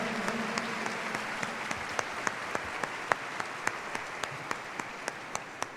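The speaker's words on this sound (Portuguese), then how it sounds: "Dê uma salva de palmas para Jesus." A church congregation at an evening Sunday Mass claps during the homily, a continuous bed of applause with a few crisp, regularly spaced sharp claps standing out clearly above it.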